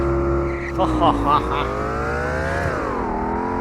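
A car in the Free Fire battle royale game drives with a steady engine drone, the pitch rising gradually as it accelerates and then dipping and climbing again, with brief clattering bursts partway through.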